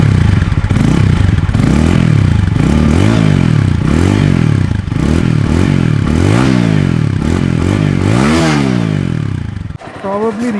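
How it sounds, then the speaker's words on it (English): TVS 200cc motorcycle engine running loud and close, with a steady throbbing note that rises and falls in repeated rev swells before cutting off near the end. Voices can be heard over it. "One of the sweetest sounding 200cc bikes out there."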